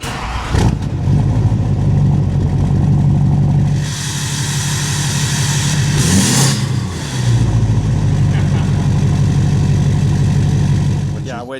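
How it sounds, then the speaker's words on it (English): A Duramax diesel truck engine runs steadily throughout with a deep low rumble, a brief rising rev near the middle, loud and close, with people talking over it. "unless you can hear it and you know what a Duramax sounds like"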